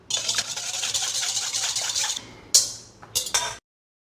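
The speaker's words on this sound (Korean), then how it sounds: "휘스크로 해서 살짝 녹여주겠습니다" A wire whisk clatters quickly against the side of a bowl, stirring sugar and salt into hot water for bread dough. The scraping is steady and close for about two seconds, then a few sharp taps, then it stops.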